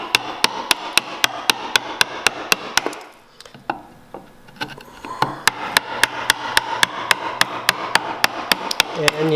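A chisel is struck repeatedly with a mallet while clearing wood for a shooting board, giving a steady run of crisp, evenly spaced knocks close by, with a brief pause of softer scraping midway before the tapping resumes.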